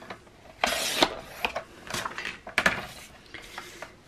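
Paper trimmed for a scrapbook album page with a cutter, several short scraping and clicking strokes in a row, close and fairly quiet with pauses between cuts.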